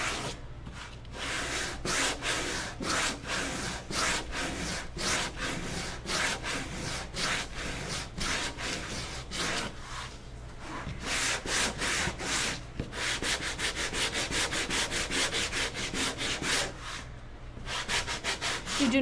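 Steady back-and-forth hand sanding on a stenciled, distressed painted wooden clock face, loud and close, with rhythmic rasping strokes that speed up toward the end and a couple of brief pauses.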